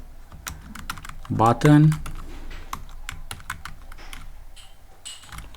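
Rapid, close clicks of a computer keyboard while Python code is typed, continuous irregular tapping with a brief spoken word near the start.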